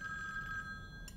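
A telephone bell rings steadily, a continuous bright metallic trill that fills the whole moment, close and clear with no voices.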